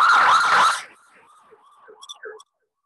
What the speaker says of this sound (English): So you hear it coming at you and it sounds high and then it drops in pitch and changes to a lower pitch as it drives past you.